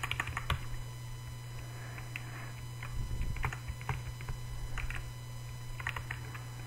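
Computer keyboard typing with mouse clicks during a Minecraft session, sounding as soft irregular taps and clicks in scattered bursts over a steady low hum, close and fairly quiet.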